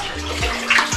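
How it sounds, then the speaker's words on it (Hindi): Water flowing constantly from the spring at a roughly 1100-year-old Paramara-era temple, a loud close gush and splash without pause. "बराबर पानी आता रहता है, कभी खत्म नहीं होता यहाँ का"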